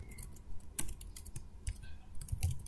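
Soft, irregular keystrokes as code is typed on a computer keyboard, quiet clicks and taps at close range in a brief run, with no talk.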